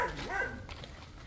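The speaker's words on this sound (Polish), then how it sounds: "Tak, to jest jakiś pies." A dog barks and yips a few times at moderate distance outdoors, with a faint whimpering quality over a steady background hiss.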